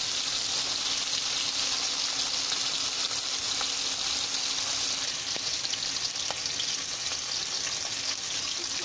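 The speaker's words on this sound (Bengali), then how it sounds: "আমি এভাবে তেল পাশে এনে দিই, যাতে মাছটা পুরোপুরি ভালো করে ভাজা হয়।" Fish frying in oil in a pan, a steady, dense sizzle that carries on unbroken throughout, close and fairly loud with occasional faint pops.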